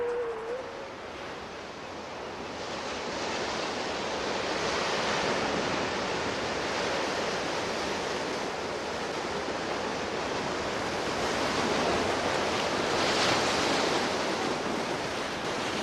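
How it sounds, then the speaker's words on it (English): Winter ocean surf breaks on the shore in a steady, loud wash of broadband roar that swells and recedes gently, continuous and without voices. "As the surf spends its fury"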